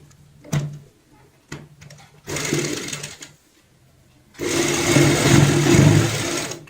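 A sewing machine stitches a strip onto a heart-shaped cushion cover in loud, close bursts: brief taps, then a short run and a longer steady whirring stretch after a pause.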